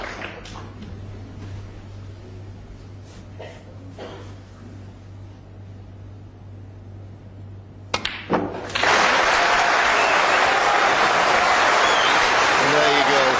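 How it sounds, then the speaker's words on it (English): Snooker crowd bursting into applause after Ronnie O'Sullivan's century break against Stephen Hendry in 2008, starting after a stretch of quiet hall murmur with a few stray claps, then loud steady clapping to the end. "And why wouldn't you applaud that?"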